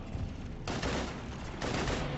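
Sustained bursts of automatic gunfire fill the Mass Effect 3 battle on Xbox 360, rattling continuously and fairly faint, with a sharp surge in intensity partway through.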